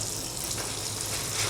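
Water running from a sink tap during handwashing, a steady broadband hiss and splash, continuous and moderately close with no pauses or voices.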